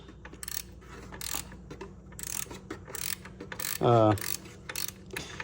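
Rapid ratchet clicking comes in short bursts as a 15mm socket loosens bolts on a 2006 Chevy Trailblazer, close and crisp, with one brief metallic clink in between.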